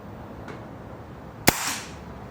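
One sharp, close air rifle shot from a BRK Ghost firing a 15.89 grain pellet, a crisp crack with a brief hissing tail, preceded by a faint softer click.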